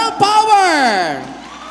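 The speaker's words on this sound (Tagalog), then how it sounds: "Papalakpak lang kayo na may kasamang hiyawan" A live audience at an Artista Night 2025 show screams and whoops in a loud, brief burst of voices that rises and then tails off; no clear clapping stands out.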